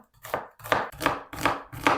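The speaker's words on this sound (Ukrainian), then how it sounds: "Цибулю нарізаю кубиком." A knife chops an onion into cubes on a board in five sharp, evenly spaced strikes, close and crisp, with no voices.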